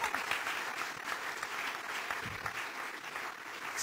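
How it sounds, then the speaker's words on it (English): Spontaneous audience applause at a plenary session, dense steady clapping from a large room that carries on throughout at an even level, heard alone. "Spontaneous applause there."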